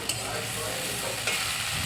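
Ground spice paste of ginger, cumin, chili and mustard stir-frying in a pan, a close continuous sizzle with a couple of sharp scraping stirs.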